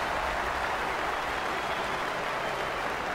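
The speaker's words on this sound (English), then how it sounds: "Chuba's coming off, and that's the reason you're hearing this crowd reacting the way they are" Stadium crowd at a college football game, Kansas State at Oklahoma State, roaring steadily as running back Chuba leaves the field; a broad, continuous wash of cheering and applause, distant and even throughout.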